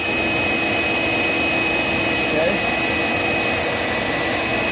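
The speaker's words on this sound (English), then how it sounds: "This is your Polaris pump. That's running right now. That's making a little vacuum swim around and vacuum the floor." A Polaris pool cleaner pump runs with a steady, loud broadband whir and a faint high whine, unchanging throughout, while a voice speaks briefly.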